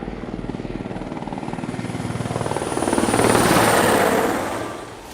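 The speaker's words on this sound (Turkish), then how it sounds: "Alçak irtifada uçan helikopterler tatbikatta görev alacak." Military helicopters fly at low altitude during an exercise, the steady rotor chop swelling louder as they pass close overhead and then easing off slightly, with no voices.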